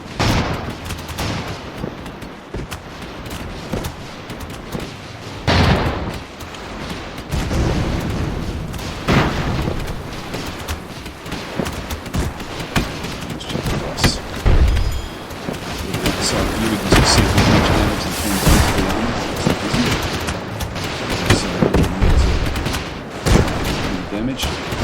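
Rifle gunfire in the airship combat game Airships: Conquer the Skies, with dense rattling volleys, booming impacts and explosions coming in waves over a sustained rumble. Loud throughout, with a voice speaking over it in places.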